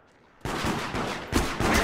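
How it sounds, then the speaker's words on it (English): Gunshots in the multiplayer game Deceit crack out in a rapid series of loud, close bursts, four or five heavy blasts in quick succession after a quiet start. "Gunshots off of the floor."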